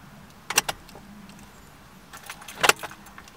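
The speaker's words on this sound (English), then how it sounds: "It says turn off the ignition." Keys jangle twice in the ignition of a 2017 Subaru WRX as it is switched off, two short metallic clinks spaced a couple of seconds apart in a quiet cabin.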